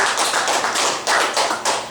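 A comedy club audience gives a round of applause, steady clapping from many hands with rhythmic swells, moderately loud and close, without talk over it.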